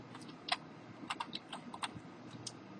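Keystrokes on a computer keyboard while coding a C++ program, a quiet, irregular run of light clicks with short pauses between bursts, close and alone over faint room hiss.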